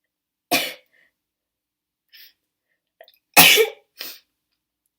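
A woman sneezes repeatedly, with two loud close sneezes separated by quiet pauses and small breaths or sniffles in between, heard alone without talk.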